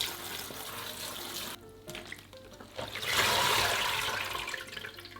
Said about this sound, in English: Rinse with running water.